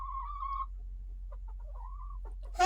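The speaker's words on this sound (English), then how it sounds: "See the birds." Backyard chickens cluck softly in a short sequence of brief calls, with a steady low hum underneath and a louder burst of clucking at the very end.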